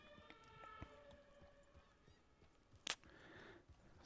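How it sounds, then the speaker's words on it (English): A faint, distant siren wails outdoors, with wavering tones in the first second or so, followed by a brief sharp knock and low background rumble. "Sorry about the siren."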